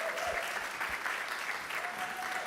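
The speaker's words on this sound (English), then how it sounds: "Another round of applause." An audience claps at a festival opening keynote: dense, even applause from a large crowd, steady and sustained through the whole stretch with no voices over it.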